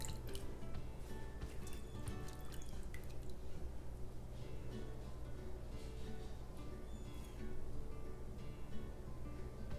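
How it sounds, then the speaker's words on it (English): Aloe vera lye solution poured into pine tar cold process soap for a 2-pound batch, heard as a steady close trickle with wet dripping and squishing that runs without pause. "this is my aloe vera lye solution, so I'm just gonna add it"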